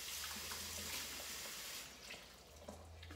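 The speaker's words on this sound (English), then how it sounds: "rinse my hand off again" A hand rinsed under running tap water during kombucha preparation, a steady hissing splash that thins out and changes partway through, fairly quiet and close with no talking.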